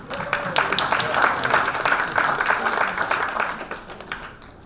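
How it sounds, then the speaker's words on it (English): Sustained applause from an audience at a community meeting about an entertainment and sports arena, a steady dense patter of many hands clapping at moderate loudness throughout. "Let's give that a round of applause, please."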